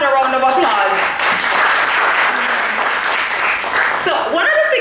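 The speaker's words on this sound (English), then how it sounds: "let's just give him another round of applause" Audience applause at a public community forum, a loud, close wash of clapping under speaking voices at the opening and closing moments, steady through the middle.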